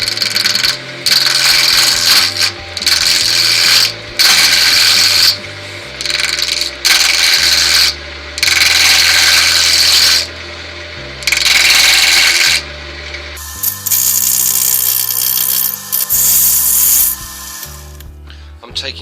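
A spindle gouge cuts wood on a lathe while an inside-out snowman ornament is turned, giving close, loud bursts of rasping cuts in short repeated passes over the steady hum of the motor.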